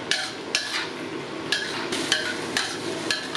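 Glass noodles stir-fried with egg and vegetables in a pan, a steady sizzle under repeated sharp scrapes and taps of a utensil against the pan at roughly half-second intervals, close by.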